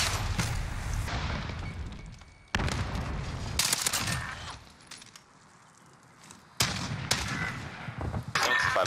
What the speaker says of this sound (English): These pistols need to fucking go away, dude.